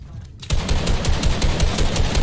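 Rapid automatic gunfire in a video game, a loud, close, continuous burst of evenly spaced shots starting abruptly after a brief quiet moment.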